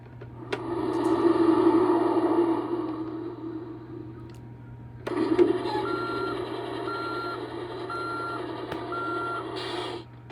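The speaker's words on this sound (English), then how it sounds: "Maybe that's all of the sounds of the Mack truck from Cars 3." A toy Mack truck from Cars 3 plays two electronic sound effects in a row, a recorded truck engine rumble and then repeated reversing beeps over engine noise, close and steady.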